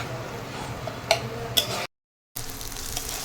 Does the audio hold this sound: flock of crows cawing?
no